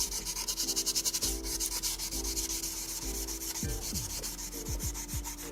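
Sandpaper is scraped against the leather covering of an Ihagee Exa camera, a close, rasping rub in a run of quick repeated back-and-forth strokes, with a few sharper scratchy sweeps near the end.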